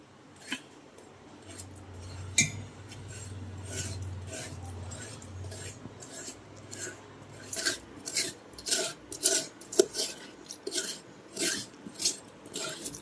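A spoon scrapes through watermelon flesh in repeated rasping strokes, soft at first and then a quicker rhythmic series of close scrapes.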